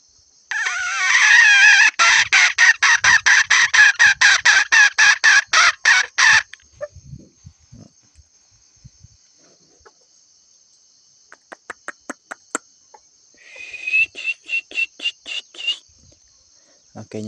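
Chickens and a rooster cluck and crow loudly and close by in long rapid bursts, go quiet, then return with shorter clucking runs and faint voices under them.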